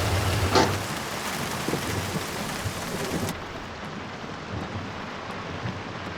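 Steady rain pours down in a dense wash of noise, with a brief louder burst near the start, continuing unbroken to the end.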